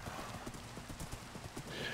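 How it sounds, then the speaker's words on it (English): Horse hooves clip-clopping past in Minecraft's TolkienCraft mod, a steady run of quick hoofbeats at moderate distance, with a faint whinny near the end and light background voices. "your horse just rode on by"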